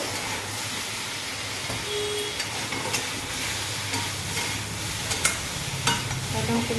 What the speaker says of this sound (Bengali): এদিকেও আমার ফুলকপিগুলো একদম ভাজা ভাজা হয়ে গেছে